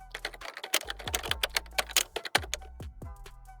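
A computer keyboard clatters under quick fingers as a college name is typed, a dense run of close, crisp key clicks with brief pauses between bursts and no talking.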